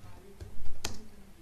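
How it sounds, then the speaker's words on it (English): A few sparse key clicks on a computer keyboard while entering Python code in an editor, soft and close, with a quick cluster of taps near the middle over faint background hum. "In this editor window you want to type."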